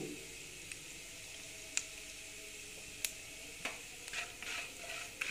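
Mustard seeds, asafoetida and dal frying in oil, a faint, low sizzle with scattered small pops and crackles, quiet and without speech.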